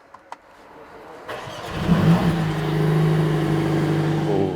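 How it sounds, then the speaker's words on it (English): The engine of a 2022 Mercedes-AMG CLA45 S (420 hp) cranks briefly after a couple of faint clicks, then catches and settles into a steady, rumbling idle close by. "this is going to be the first startup of the CLA45s"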